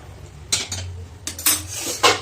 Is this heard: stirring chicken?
yes